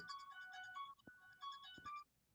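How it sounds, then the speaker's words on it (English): Phone ringtone playing the Halloween theme, a fairly faint electronic melody of short repeated tones broken by brief pauses and a couple of soft knocks. "I heard the theme from What is? Halloween. My phone rang, so I turned the freaking volume off."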